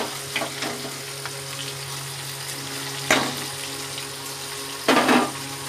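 Onions sizzling in a pan with fried prawns, a steady low hiss punctuated by a few louder bursts of crackling and stirring, with no voices.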